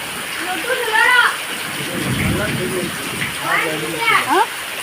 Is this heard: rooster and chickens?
no